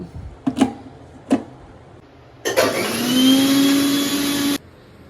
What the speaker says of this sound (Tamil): இப்போ வந்து இஞ்சி பூண்டு அரைச்சாச்சு